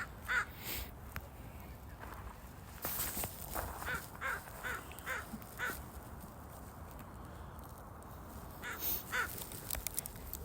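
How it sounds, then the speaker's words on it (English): An outdoor crow caws several times, spread across the stretch, fairly close and clear against a quiet open-air background with light ambient noise. "There's a crow telling me to stop filming."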